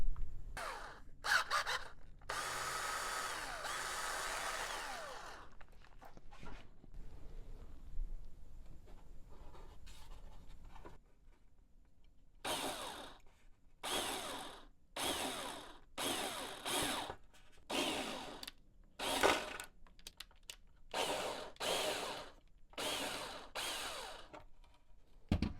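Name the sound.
small drill drilling holes in balsa fuselage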